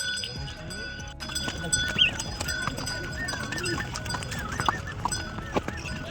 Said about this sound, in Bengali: ঘোড়াগুলো খালি অন্যদিকে চলে যাচ্ছে।